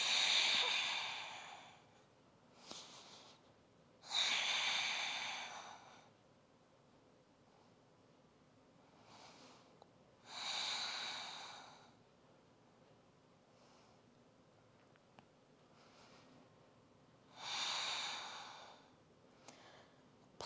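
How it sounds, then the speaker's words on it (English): Slow breathing during a yoga plow pose, soft airy breaths in and out recurring every few seconds, close and faint against a quiet room, with no speech. "Few breaths."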